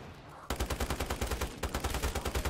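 A light machine gun in Call of Duty zombies mode opens up after a brief lull, firing rapid sustained bursts of evenly spaced shots, loud and close.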